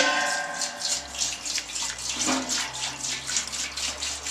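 Homebrew wort streams into a large brew pot in a steady, splashy, watery pour with rhythmic gurgling pulses, close and fairly loud, running throughout with no talking.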